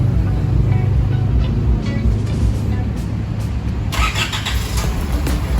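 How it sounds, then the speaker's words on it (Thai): An Isuzu MU-7 engine, remote-started, rumbles steadily nearby, with three faint confirming chirps and clicks over the running motor. "มีเสียงตอบรับต่างสามครั้งนะครับ ว่าเครื่องยนต์สตาร์ทติดนะครับ"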